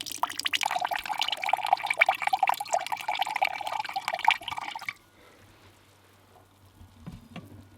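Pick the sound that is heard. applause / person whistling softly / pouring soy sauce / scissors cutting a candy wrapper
pouring soy sauce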